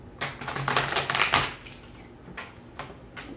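Tarot cards shuffled by hand, a close burst of riffling, slapping card noise followed by a few sharper isolated flicks as cards pop out.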